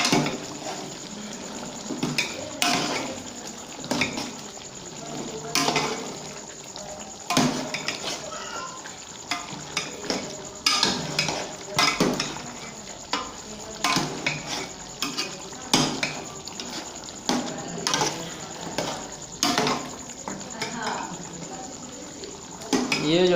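Mutton is stirred in a pot while it fries and its liquid cooks down, with repeated scraping and clinking of a spoon against metal over a steady sizzle, and faint talking now and then.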